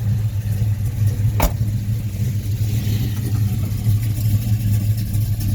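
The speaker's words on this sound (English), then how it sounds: "Fire it up, Ned." A 1979 Chevrolet engine starts and idles with a steady, low rumble, broken by one brief click early on.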